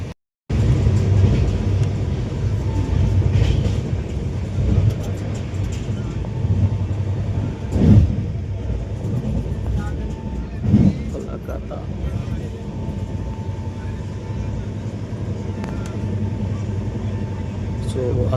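North East Express passenger train rumbling along the rails between stations in Assam during monsoon, a continuous loud clatter with a few heavier jolts, heard from on board while someone talks over it.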